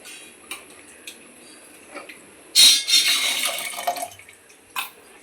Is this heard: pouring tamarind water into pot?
yes